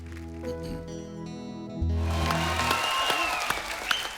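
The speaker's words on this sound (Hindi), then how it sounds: "इनका भी दिल कर रहा है खड़े होकर ताली बजाने को।" Studio audience applause on a Hindi comedy talk show, rising abruptly after a stretch of sustained music tones and continuing as a moderately loud, steady clatter of clapping.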